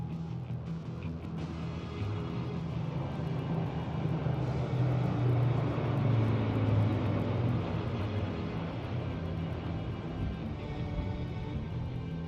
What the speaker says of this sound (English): Flanking it are 2 C-295 aircraft, flown by Group Captain Shivam P.K. Vasan